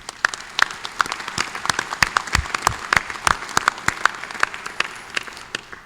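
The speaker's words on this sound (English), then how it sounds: "Please give them a round of applause." An audience at a 2016 annual business meeting applauds for several seconds, a moderate crowd whose individual claps stand out crisply against a soft background wash before the applause gradually thins out.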